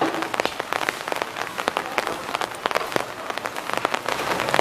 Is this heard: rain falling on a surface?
yes